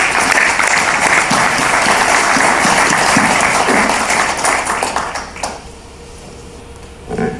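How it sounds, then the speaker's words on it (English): Audience applause after a panel discussion at a Saudi future-of-food workshop: dense, steady clapping from a crowd that holds strong for over five seconds, then thins out and fades, with a brief swell near the end. "I want to give them all a round of applause"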